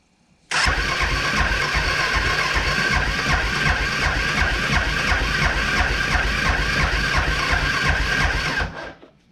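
A 1999 Suzuki Quad Runner 500 ATV with a vacuum-actuated fuel system fires up abruptly and runs at a loud, steady, throbbing idle for about eight seconds before cutting off, close to the listener with no talking.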